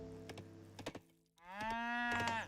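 Cows moo in a strategy video game, one long drawn-out low moo following a few short clicks, clear and close with no talk over it.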